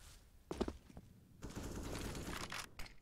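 Gunfire in Counter-Strike on the Inferno map during a competitive match, a short burst of shots followed by sustained rapid fire and scattered shots, fairly faint and distant.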